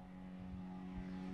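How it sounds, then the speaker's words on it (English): An older Saab rally car with a 4-speed gearbox runs on a gravel stage at the Oregon Trail Rally, its engine a faint, steady, distant drone with a low humming tone. "As you can hear, the older Saab's a 4-speed"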